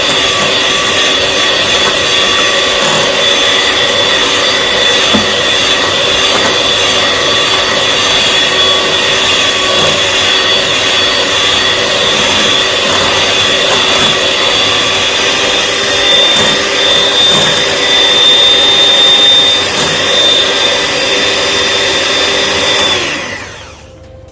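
An electric hand mixer whirs steadily as it blends apple breakfast batter, a loud continuous motor drone with a bright whine that holds for about twenty-three seconds before cutting off abruptly at the end.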